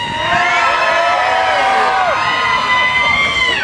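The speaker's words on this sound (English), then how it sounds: "everybody, I mean everybody, on three, I want you to scream!" A large outdoor crowd at a Beatles festival in Sheepshead Bay screams and cheers in one sustained, loud wall of voices, with shrill children's shrieks and whoops riding on top for several seconds.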